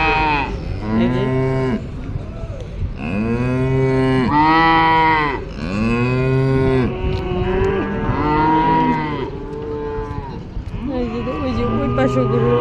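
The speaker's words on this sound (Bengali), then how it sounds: "এই যে রাস্তার ওই পাশে গরু আছে, ওইখানে গরু আছে।" Cattle lowing at a roadside cattle market, with repeated long, loud moos from several animals close by, one after another, while people talk in the background.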